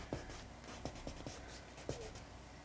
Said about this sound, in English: You can also just enjoy a little bit of ASMR with this shading.